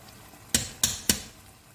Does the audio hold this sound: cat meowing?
no